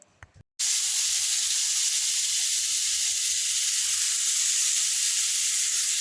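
Ghee heating in a kadai for frying carrots gives a steady, close hissing sizzle that starts abruptly after a brief quiet moment and continues evenly without any talking.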